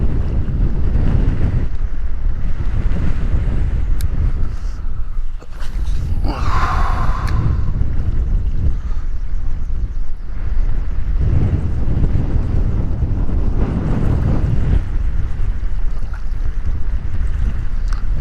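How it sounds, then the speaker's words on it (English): Strong wind buffets the microphone with a loud, continuous roar on open sea while fishing from a jet ski near Bird Island, with waves and water sloshing beneath and gusts swelling and easing throughout. "That wind almost blew me over."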